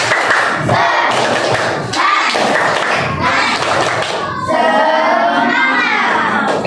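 An Indonesian class does a spirit clap, with loud patterned bursts of clapping, thumping and children shouting close by, then a stretch of excited chatter and cheering.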